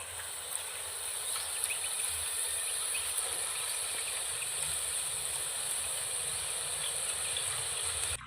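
Boondi batter fries in hot oil with a steady, dense sizzle and crackle that holds evenly throughout. It is close and moderately loud, with no speech.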